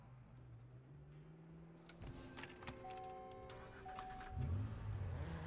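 A car engine in the video game Watch Dogs idles, then revs and roars in rising bursts with some rattling, and there is a final louder rev near the end. No one speaks.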